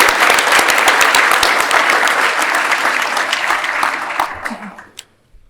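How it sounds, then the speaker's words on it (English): Loud, dense applause from an audience at an evening community action assembly, with whoops mixed in, sustained for several seconds before thinning into a few scattered claps and dying away. "Let's do a big round of applause for all of the organizations."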